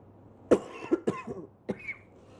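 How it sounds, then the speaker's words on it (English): A few harsh coughs and throat-clearing bursts, close by, with short gaps between them, followed by a faint high squeak. "are you coughing for real?"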